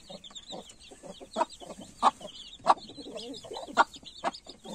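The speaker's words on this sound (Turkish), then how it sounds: "Böyle civcivlere bakın." Young chicks of an Indian Gurk chicken peep repeatedly in quick, high chirps, several birds close by, with soft clucking and rustling around them.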